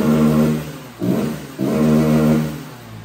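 Flex-fuel motorcycle engine running on diesel fuel, revving up in a few close, steady surges with a brief dip between them, no talking over it.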